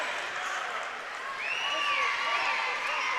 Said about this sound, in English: Good crowd on hand for the late night game on a Friday night. Very raucous crowd.